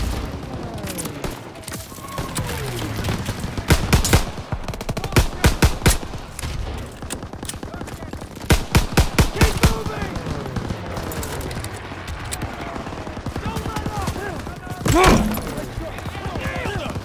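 Bursts of machine-gun fire in the World War II shooter Call of Duty: WW2, heavy rapid volleys around the four- and nine-second marks plus a big blast near the end, over constant battlefield noise with soldiers shouting throughout.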